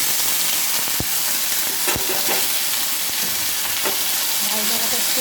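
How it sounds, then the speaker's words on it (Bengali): Bottle gourd shoots fry in a wok with five-spice, giving a continuous close crackling sizzle. Sharp knocks of stirring are heard about once a second. "লাউ ডোগাটা একটু ভাজা ভাজা হবে।"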